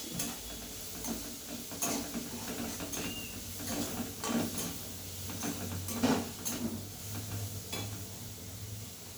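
Soft, low sizzle with occasional stirring scrapes as chopped onion, garlic and grated ginger fry in a pan, quiet and close without speech.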